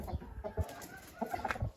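A rooster, recently ill and wheezing, gives short low clucks and throaty grunts in a few scattered bursts, close by with faint background noise.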